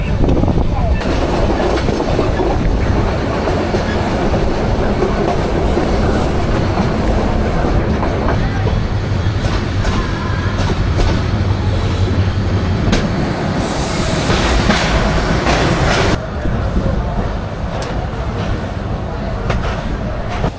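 Turna Express passenger train running through the night toward Dhaka, heard from inside a carriage as a loud, continuous rumble of wheels on rails with rhythmic clatter and brief squeals, plus faint voices in the background.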